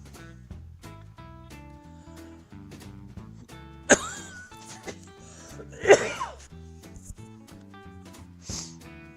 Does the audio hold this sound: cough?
yes